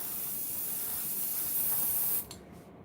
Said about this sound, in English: I spray very thin paint